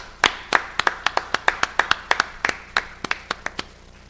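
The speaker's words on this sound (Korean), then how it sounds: "다시 한번 뜨거운 박수 부탁드리겠습니다" A round of sharp hand claps, about seventeen in four seconds at an uneven pace, sounding like a small group clapping close by during a Sunday morning church service.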